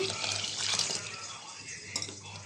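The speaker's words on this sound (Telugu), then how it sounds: "తగినంత వాటర్ పోసుకోవాలి" Running water splashes steadily into a vessel, a continuous gushing stream with a low hum underneath.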